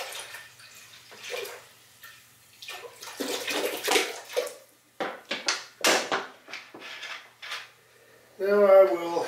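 Water is poured into apple cider vinegar to make brine for pickled eggs, a short burst of splashing and filling near the end after quieter kitchen sounds and a voice talking.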